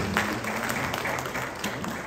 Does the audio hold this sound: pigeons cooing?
no